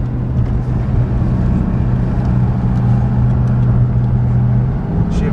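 A Dodge Charger engine rumbles steadily with a low droning exhaust note, revved in manual mode, holding mostly even with slight rises in revs, close and loud.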